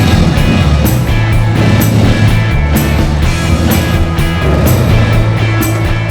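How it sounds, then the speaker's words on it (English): A trike's engine idles loud and steady as it creeps slowly up onto a Stinger trailer, clutch and throttle held in careful balance. A continuous low rumble runs throughout with slight surges. "we're going to take it real slow and just balance that clutch and throttle all the way up and make it as smooth as"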